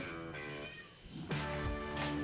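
A cat gives a couple of drawn-out meows in a kitchen, close and fairly clear, with a second call rising after a short pause.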